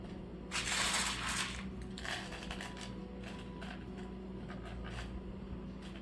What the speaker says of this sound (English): you're going to take your glass and you're just going to sprinkle it on top of your paint